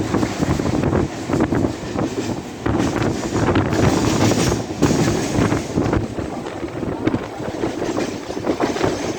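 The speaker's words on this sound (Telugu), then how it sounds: "సో చాలా చోట్ల ఆగకుండా వెళ్ళిపోతూ ఉంటుంది అన్నమాట ఈ ట్రైన్." A Mumbai fast local train runs at night between Dadar and CSMT without stopping, heard from on board as a continuous loud rumble and rattle with rhythmic clatter and wind buffeting.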